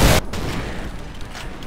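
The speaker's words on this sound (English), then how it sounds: "Yeah, AK-47" An AK-47 fires in a modded video game: one loud burst of automatic gunfire at the start, followed by a lower rumbling tail, with no voices.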